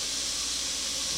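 Beef browns in a hot pan for lo mein with a steady, loud, unbroken hiss of sizzling fat and no voices.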